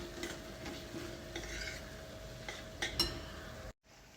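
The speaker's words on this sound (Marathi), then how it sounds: "हे सर्व मसाले ॲड केल्यानंतर तेल येईपर्यंत, कढईला तेल सुटेपर्यंत हे मसाले व्यवस्थित भाजून घ्यायचे." Spice masala roasts in oil in a kadhai for a potato curry, with soft sizzling and repeated scraping stirs of a spoon against the pan. The sound cuts off abruptly near the end.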